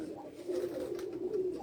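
Pigeons cooing on a Punjab rooftop loft, a steady low murmur of overlapping coos that runs continuously and fairly close, with no talk.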